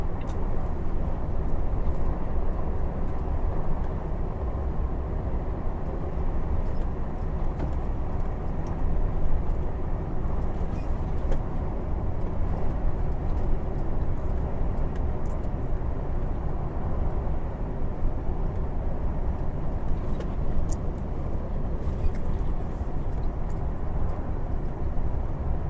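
A gas-powered truck hauling cargo drives along, giving a steady, moderately loud rumble of engine and road noise with no talk.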